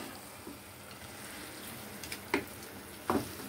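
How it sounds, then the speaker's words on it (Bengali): Fresh cream being stirred into palak paneer in a pan, with a soft, steady sizzle underneath and a couple of brief spoon scrapes near the end. "এবার ফ্রেশ ক্রিমটা দিয়ে একটুখানি নাড়িয়ে নিতে হবে"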